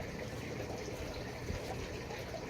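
Water trickling and splashing onto lettuce seedlings in a garden bed, a soft, steady outdoor stream with no talking.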